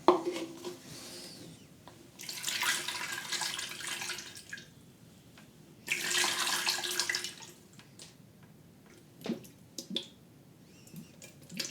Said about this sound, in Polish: wodę będę nalewał przez tą dziurkę od góry instrumentu